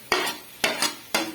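Tomatoes, capsicum and green chillies frying in ghee in a pot for vegetable rice, three sharp bursts of stirring and scraping over a light sizzle, close up, with no voices.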